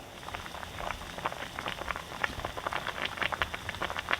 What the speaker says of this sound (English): The soup has come to a boil